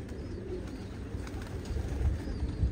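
Young pigeon on a balcony giving soft, low coos, faint and close with quiet background hum.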